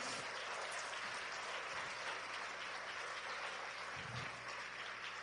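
A crowd applauds at a talk by Elizabeth Salinas, in honor of María Teresa and her daughters; a continuous, fairly distant wash of clapping with an even texture from start to finish.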